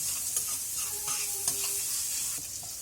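Mutton curry with onions, salt and turmeric sizzles steadily in a pan, with soft scrapes and clinks of stirring throughout. The frying hiss stays close and even, and no voices are heard.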